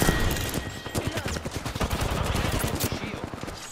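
Heavy gunfire in the Apex Legends video game, dense overlapping bursts of rapid shots, loud and close, continuing without pause through the clip.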